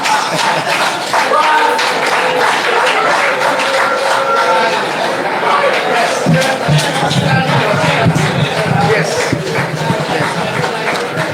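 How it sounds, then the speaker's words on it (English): Audience applause at a St. Mary's Academy class reunion evening, dense clapping with cheering and crowd chatter mixed in, loud and close throughout. "A round of applause"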